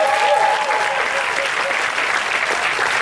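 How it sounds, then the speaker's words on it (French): Thunderous audience applause fills a gymnasium at the Semaine de la Critique closing ceremony in Cannes, a dense, steady roar of many clapping hands that holds near and loud throughout. "Un tonnerre d'applaudissements pour eux"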